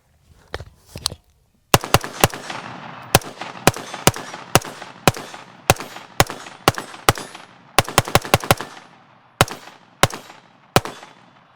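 Budget AR15 rifle built for under $1000 firing at an outdoor range: about twenty loud, sharp gunshots in an irregular, steady cadence, some in quick pairs, each ringing briefly, with no talking.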